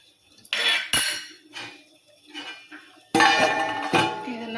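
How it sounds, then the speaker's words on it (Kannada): A plate is set over a cooking pot as a lid, giving several metallic clinks and scrapes of dishware, close and fairly loud, with a brighter clatter toward the end. "ಆ ಪ್ಲೇಟ್ ಮುಚ್ಚಿಡ್ತೇನೆ ನೋಡ್ರಿ."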